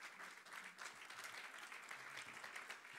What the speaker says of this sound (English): If we could give a round of applause to them as they come up